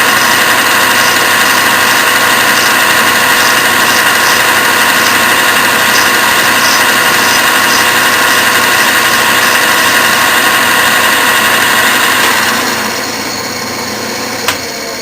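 A pattern-making lathe runs steadily while the compound slowly feeds the cutter out along a shoulder, giving an even, close mechanical whir with a faint high whine that drops away near the end.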